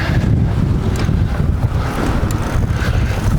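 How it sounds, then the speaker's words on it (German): A strong wind gust buffets the microphone outdoors during a stormy drone test beside an e-bike, producing loud, continuous low rumbling and flutter with no pauses for the full stretch. "jetzt kommt wieder eine richtig böse Windböe."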